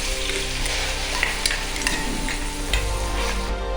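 Onion and tomato paste sizzling in a hot pan with fried mint for a Telangana-style homemade fish curry, a loud continuous hiss with scattered spatters and stirring, nobody speaking.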